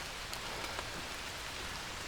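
Rain falls steadily outdoors in Cornwall, a dense, even hiss with scattered louder drops on a surface, no voices.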